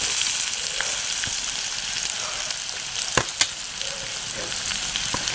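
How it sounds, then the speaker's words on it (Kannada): Onions sizzling in hot oil for chilli chicken, a steady loud frying hiss with a few sharp spatula taps and stirring scrapes near the end. "ಫಸ್ಟು ಈರುಳ್ಳಿನ ಚೆನ್ನಾಗಿ ಫ್ರೈ ಮಾಡ್ಕೋಬೇಕು"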